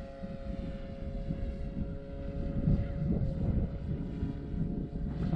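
Hangar 9 Valiant 10cc RC airplane with a 46 Value Hobby motor flying on its maiden flight, a steady droning engine tone mixed with wind buffeting on the microphone, fairly loud throughout.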